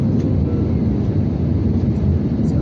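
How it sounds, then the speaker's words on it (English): Airliner landing at Hamad International Airport in Doha, heard from inside the cabin as a steady, loud low engine and airflow roar that holds evenly throughout with no voices. "In a few minutes, just landing in Hamad International Airport."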